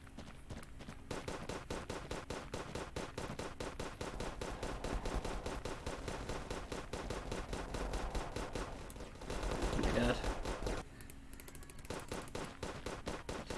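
A gun in a war video game firing at maximum rate, a continuous rapid stream of sharp shots in tight even rhythm for over ten seconds, briefly swelling louder near the end.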